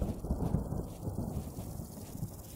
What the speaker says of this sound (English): sounds like it's about to rain